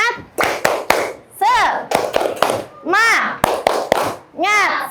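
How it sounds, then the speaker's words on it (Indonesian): Schoolchildren in a classroom perform a rhythmic 'tepuk semangat' clapping routine, sharp claps in quick sets alternating with chanted, sung-out voices, loud and close throughout. "Tepuk semangat."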